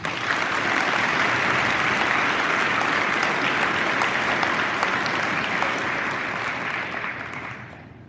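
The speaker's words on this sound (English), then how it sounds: "Please give her a round of applause." A crowd at a high school Veterans Day program applauds a speaker, a full, even wash of clapping from many hands that holds steady for several seconds and then begins to taper off.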